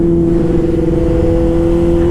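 A Yamaha R6 sport motorcycle engine droning at steady, loud revs while the bike is ridden, with a constant buzzing hum and heavy wind rumble throughout and no talking.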